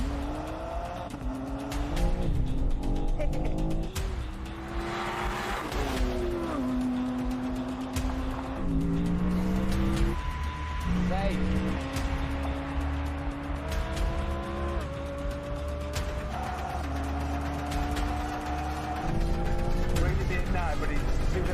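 A BMW M3 CS Touring and an Audi R8 GT run a standing drag race, engines revving hard through repeated rising gear pulls with tyre noise, loud and sustained under a voice talking throughout.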